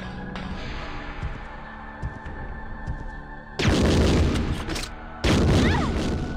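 Two sudden loud gunshot blasts in the PS1 video game Resident Evil 2, in the sewers, burst over a quiet electronic background, each followed by a sustained rumbling roar.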